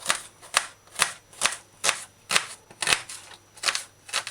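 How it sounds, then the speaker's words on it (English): A knife slices through an onion on a cutting board in a steady run of about nine crisp, evenly spaced cuts, close and clear, with no talking. "As for the onion, just slice it."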